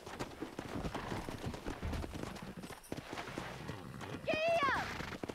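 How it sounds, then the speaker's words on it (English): Horses in the Red Dead Redemption video game, with rhythmic hoofbeats clopping steadily under game dialogue and music, followed near the end by a sharp whinny. "Let's see if we can't wrangle some horses."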